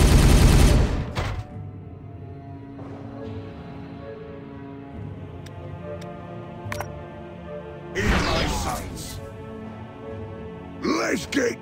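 Gunfire in the video game Warhammer 40K Regicide. A loud burst opens the clip, then a quiet stretch with a low hum and a few faint clicks, and later bursts of shooting come around eight and eleven seconds.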